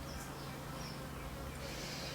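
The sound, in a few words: honeybee buzzing indoors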